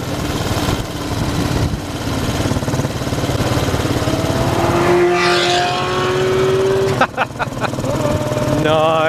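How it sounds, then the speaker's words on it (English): A Ferrari engine runs close by at a motorcycle dealership, a loud sustained drone that climbs in pitch midway, with short sharp bursts near the end. "Got a nice Ferrari behind me."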